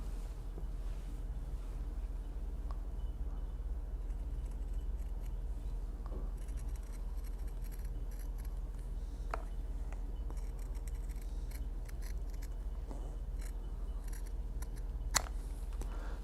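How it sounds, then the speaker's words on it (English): Shears cut the rounded parts of bag material for a steampunk-style strap bag, producing faint, sparse snips and scrapes over a quiet indoor background. "now the rounded parts I like to cut with the shears."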